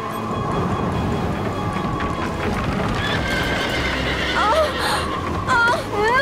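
A horse neighs and whinnies several times over rapid clip-clopping hooves in a cartoon scene, the calls rising sharply near the end, with a voice speaking over part of it.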